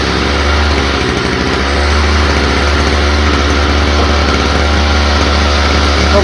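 A Stihl FS45 string trimmer engine with a faulty idle, turned up to keep it running, droning steadily and loudly up close with a rough buzzing tone throughout.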